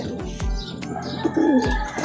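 Pigeons in an outdoor coop coo in low, soft bursts over a steady background of bird chatter and chirps, with a few closer coos standing out.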